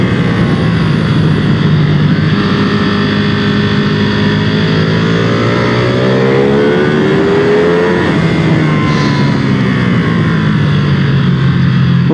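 A 2020 Ducati Panigale V2 motorcycle engine revs loudly and climbs steadily in pitch while accelerating, close and continuous, with a brief dip and renewed rise near the end.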